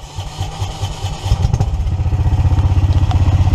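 A 420cc Predator engine in a 1982 EZ-GO three-wheel golf cart starts up, then settles into a loud, close, fast and even single-cylinder chugging as the cart pulls away.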